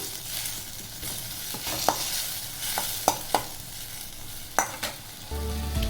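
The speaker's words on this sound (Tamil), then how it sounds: "ஸ்டவ்வை சிம்லேயே வச்சு வதக்குங்க" Tomatoes sauté in a pan over low heat with a constant soft sizzle, a utensil scraping and tapping against the pan a few times as it is stirred.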